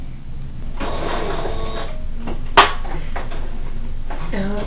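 A sewing machine stitches a couple of stitches back and forth to anchor ribbon on a refashioned skirt, giving short mechanical whirring bursts, a sharp click midway and brief voice-like sounds near the end.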